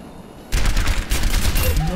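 Rapid gunfire at training bots in the video game Overwatch, a burst of loud, close shots that starts abruptly after a quiet moment and continues in quick succession.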